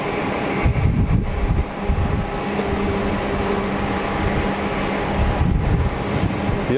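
A Dassault Falcon three-engine business jet roars steadily nearby at Geneva Airport, a broad loud rushing whine with wind buffeting the microphone, no voices.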